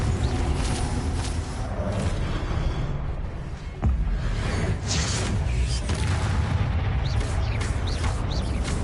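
A fiery spell explosion in Hogwarts Legacy on PS5, heard as loud booming blasts over dense, continuous combat noise, with repeated impacts and rumbling throughout.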